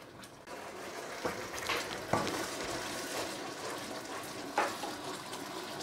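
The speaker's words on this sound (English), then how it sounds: "Stir this well" Jollof rice being stirred in a pot, Nigerian style, made without tinned tomato: a steady sizzling, frying hiss runs throughout, broken by a few sharp scrapes of the spoon against the pot.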